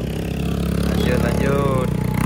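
A motorcycle pulls away at full throttle on a road trip to Alpa along Jalan Muaro Aie, its engine droning steadily and rising in pitch close by, with a rider's voice partly over it.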